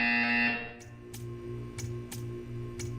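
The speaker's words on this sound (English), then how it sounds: "You will hear a buzzer." In the video game Portal 2, a loud electronic buzzer sounds at first, then fades into a low hum broken by several faint, sharp ticks.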